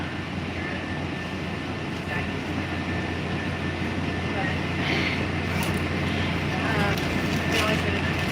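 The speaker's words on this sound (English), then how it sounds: "This is the Red Line train" Steady rumble and hum of a Washington Red Line metro train near Judiciary Square, with a low constant drone and occasional squeals, voices faintly heard over it.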